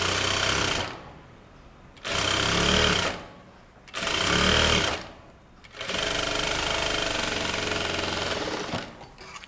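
A sewing machine stitches piping near a slit in dressmaking fabric. It runs in four loud, close bursts of rapid mechanical whirring, separated by short pauses, and the last run is the longest.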